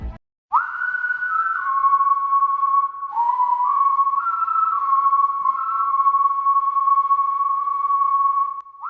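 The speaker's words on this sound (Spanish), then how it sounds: "un calmado, pero aterrador silbido había invadido la sala" A single sustained whistle holds a clear high tone for several seconds, dipping and shifting pitch slightly, alone against silence.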